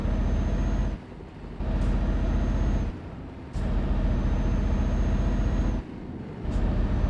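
Truck engine in Euro Truck Simulator 2 droning steadily and loudly, broken by several short dips where it drops away with hissing air-brake-like releases between sustained stretches of engine roar.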